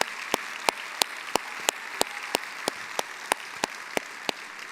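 Slow, evenly spaced claps ring out about three times a second, sharp and distinct over a faint hiss, as a church congregation applauds during a sermon.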